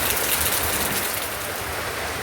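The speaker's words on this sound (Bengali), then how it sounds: "বৃষ্টি শুরু হয়েছে সকালবেলা" Morning rain falls as a steady, dense wash of noise, constant and moderately loud with no voices over it.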